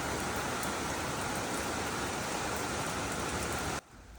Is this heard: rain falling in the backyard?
yes